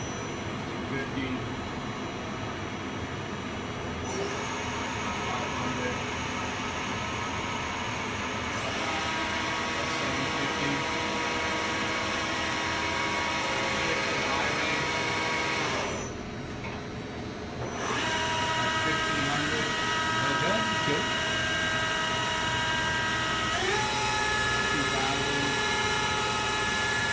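A Johnford vertical machining center spindle spinning at 100 RPM in low range, a steady whirring mechanical drone with tonal whines, shifting pitch several times and briefly dipping about two-thirds through.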